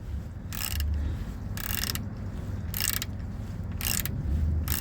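A ratchet wrench undoes the brake caliper bolts on a Peugeot 207, producing four short bursts of rapid metallic clicking close by, separated by pauses, over a low steady hum.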